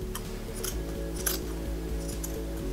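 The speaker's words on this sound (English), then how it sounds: "The material of this is really pretty thick, so it's a lot easier to do this if you have really sharp scissors." Sharp dressmaker shears cut through thick sweatshirt fabric, a series of steady crisp snips repeating close up over a constant low hum.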